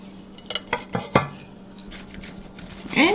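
A knife cuts through a warm, egg-rich Japanese pie in its dish, giving several sharp clinks and scrapes against the dish in quick succession, close by, followed by softer scraping.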